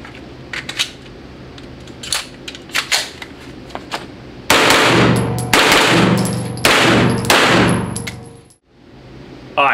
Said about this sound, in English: I ran my BNT, he ran his Strybog. Those are our two favorite sub guns.